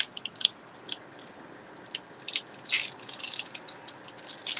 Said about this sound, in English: I had to take the wrapper off my drink